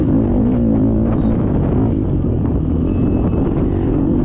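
A Beta 200 RR dirt bike engine drones at a dirt bike race, a loud, steady buzzing roar with a wavering pitch as the rider holds the throttle, with no speech.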